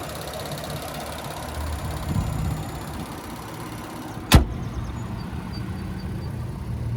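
The 3.5 liter naturally aspirated V6 of a 2019 Infiniti QX60 idles in the engine bay as a steady, low, even rumble, broken once by a single sharp click near the end.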